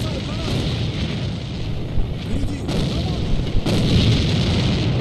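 Grenades explode during a competitive match of the online shooter A.V.A, with a couple of heavier booms rising out of a dense, continuous rumble of gunfire and battle noise.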